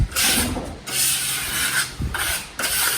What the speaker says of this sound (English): And using a spatula keeps it nice and thin.